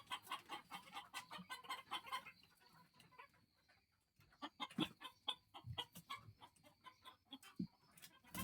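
A native hen on a quail farm clucks repeatedly in short, uneven bursts close by, with other fowl sounds around it and no talking.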